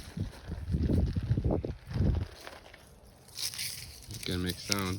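Dry, crispy frost-killed garden plants crunch and crackle in bursts of crinkling noise during the first couple of seconds, close to the microphone, followed by a person talking.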